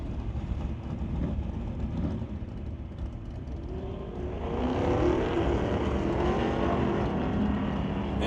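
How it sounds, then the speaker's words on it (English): At a drag strip, a Dodge Charger lines up against a Ford Mustang, one car new and one old. A steady engine rumble grows louder and rougher midway through as the cars launch and pull away. "the 1214 Dodge Charger going to face off against the 1160 Ford Mustang"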